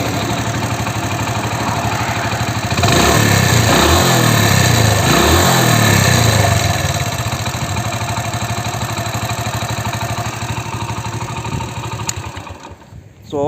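A Hero Honda Splendor Plus motorcycle engine idles steadily through its silencer pipe, then revs up in a couple of rising bursts before settling back to a continuous close idle; no one speaks.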